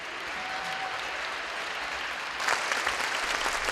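Audience applause after a ballet performance, a dense steady wash of clapping that swells louder and fuller about two-thirds of the way through, with no voices over it.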